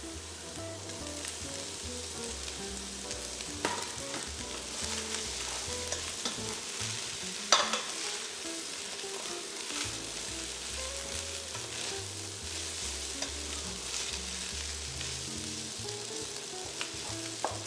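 Mee Tai Bak noodles are stir-fried with scrambled egg in a pan, a loud, steady sizzle running for the whole stretch with spatula tosses and one sharp clatter near the middle.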